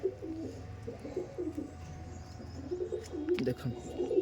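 Flying pigeons of a Madras-type tournament flock coo in a loft in Belgharia, a steady low throaty burble that rolls on continuously throughout, with other birds chiming in.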